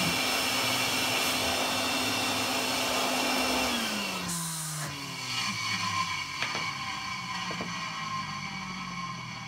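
A Hoover vacuum cleaner motor runs steadily with a loud whirring drone, its pitch dropping partway through as the tone shifts, then continuing at a lower hum.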